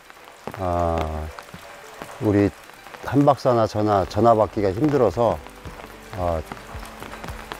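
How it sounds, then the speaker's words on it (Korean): Steady rain falls outdoors as a faint, continuous hiss beneath someone speaking close to the microphone. "오늘 비가 제대로 지금 내리고 있습니다."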